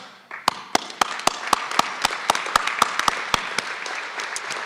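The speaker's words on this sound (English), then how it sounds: "please stand so we can give you one round of applause" Sparse applause from a small audience at a county government address, with distinct individual claps ringing out close by in an irregular rhythm over a soft wash of further clapping.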